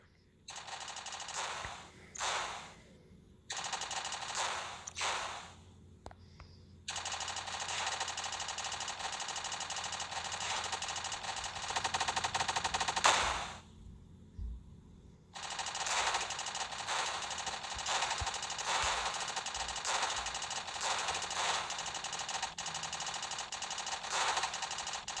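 Cannons fire repeatedly in the Tactical War tower-defense game, a sustained rapid barrage of sharp shots with brief gaps, steady and loud throughout.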